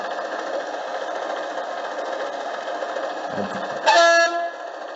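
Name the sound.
model locomotive sound system effects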